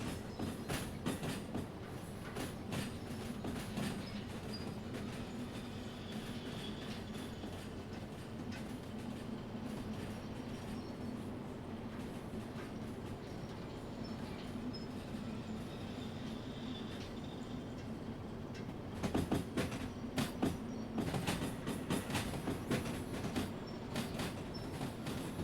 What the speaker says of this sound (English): You don't notice the trains at all